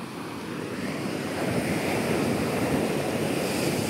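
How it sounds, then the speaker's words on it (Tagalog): Ocean waves wash around a large wooden boat under steady wind, a continuous rushing surf that swells slightly louder partway through, with no voices. "Yung pala alon lang eh."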